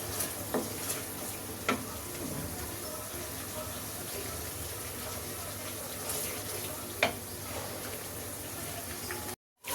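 Spice paste frying in oil for aloo dum, a low continuous sizzle with occasional spoon scrapes and clinks against the pot, close and fairly quiet throughout.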